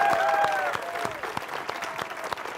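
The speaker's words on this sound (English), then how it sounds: "let's give a huge round of applause to the ACLU of New Hampshire" An audience at a civil liberties event claps steadily in a room, a dense round of applause that begins strong and gradually thins out.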